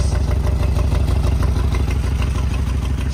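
Loud, close rumble of a Harley-Davidson motorcycle through its twin exhaust, a deep, rapid, uneven thumping idle with rattling clatter that holds steady throughout.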